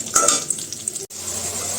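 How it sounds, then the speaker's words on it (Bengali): Potatoes fry in a home kitchen pan with a steady close sizzle, a stirring scrape and light clinks of utensil on metal, broken by a brief moment of near silence. "তো আলুটা আগে ভেজে নিই"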